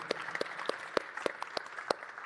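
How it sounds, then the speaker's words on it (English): Guests at a tech conference get applause that comes through as a thin, regular series of distinct claps, about two or three a second, close and fairly soft, like a few people clapping rather than a full crowd. "can we please have a big round of applause for our amazing guests?"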